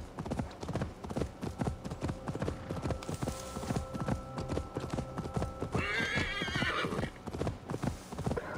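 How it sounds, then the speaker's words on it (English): A horse gallops in Assassin's Creed Valhalla, with rhythmic hoofbeats pounding steadily throughout, a sustained tonal background underneath, and a whinny breaking out near the end. "just ride the horse all the way over there"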